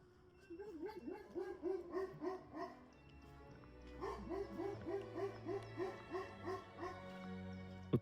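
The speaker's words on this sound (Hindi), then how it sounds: "कुत्ते भौंकने लग रहे हैं" Dogs bark in quick repeated bursts at a distance near Russian immigration, faint and outdoors, with two clusters of rapid yaps and a steady hum of background noise.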